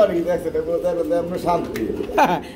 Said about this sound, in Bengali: বন্ধুরা এখানে ডিমে অবস্থান করতেছে এক জোড়া কবুতর আছে